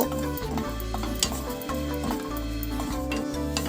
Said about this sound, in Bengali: রসুন আর কাঁচা লঙ্কাটা ভালো করে নেড়ে নিয়েছি শুকনো খোলায়